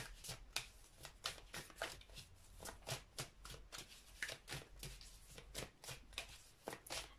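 Tarot cards being shuffled by hand, a quick run of crisp papery riffs and slaps in an irregular rhythm, close and fairly quiet with no talking.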